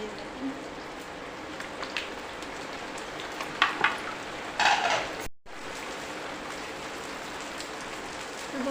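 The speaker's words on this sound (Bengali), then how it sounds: "তো তোমরা দেখতে পাচ্ছ বৃষ্টি" Rain falls in a steady hiss with a few sharper drips and knocks, fairly close and continuous from start to end.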